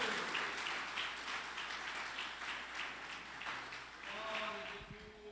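A church congregation applauding, a sustained clatter of many hands rising and falling in waves, with a few voices and a tonal sound coming through near the end.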